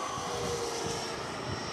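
A model Avanti jet airplane flies overhead, a steady, moderately faint engine drone with a hissy whine and no break across the whole stretch.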